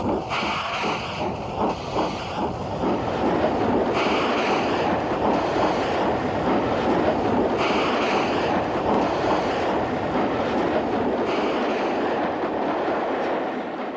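A Scott-class steam locomotive pulls out of Rugby station beside a Black 5, a steady loud rumble of wheels and exhaust with rhythmic chuffing bursts, continuous throughout with no talk.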